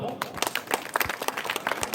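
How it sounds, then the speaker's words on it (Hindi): Audience applause at an International Mother Language Day celebration honouring top-ranked students: a dense patter of clapping, with a voice speaking over it. "एक और ताली दोस्तों"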